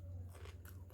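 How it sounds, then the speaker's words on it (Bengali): A quick crisp bite into a fresh cucumber, then a short crunch, close and fairly quiet. "শসা খাচ্ছি"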